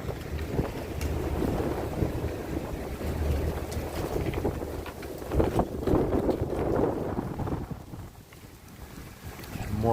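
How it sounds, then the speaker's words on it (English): Strong wind blowing outdoors on a Manhattan street before a winter storm, a loud continuous roar buffeting the microphone with gusty surges and no clear speech. "And now the wind is pushing me downhill."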